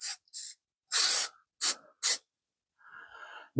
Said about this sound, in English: So let's spray a little bit of this